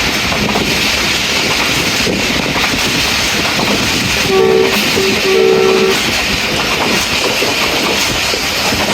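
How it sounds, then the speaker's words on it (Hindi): The Rehman Baba Express rolls along steadily at 50 km/h, with a continuous loud rumble, rattling wheels and wind buffeting. Partway through, a train horn sounds briefly in a few short blasts. "ट्रेन 50 किलोमीटर की रफ्तार से ही चल रही"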